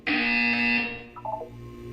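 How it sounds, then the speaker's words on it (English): A loud electronic buzzer from the video game Portal 2 sounds once for nearly a second, a steady harsh tone that cuts off, followed by a few faint warbling electronic blips. "You will hear a buzzer."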